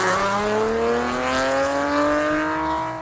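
A car fitted with an ATAK tuning aftermarket exhaust revs hard, its loud, rising engine note sweeping upward steadily for about three seconds.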